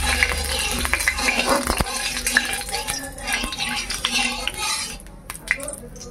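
Panch phoron spices are stirred in hot mustard oil for a tangy jujube pickle, with a metal spoon clinking and scraping against the pan over a low sizzle, busy and close, easing near the end.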